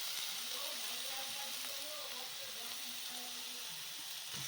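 Vegetables frying in a pan for mosaru idli, with carrot and coriander among them. A steady, loud, hissing sizzle holds throughout, and a voice speaks over it at times.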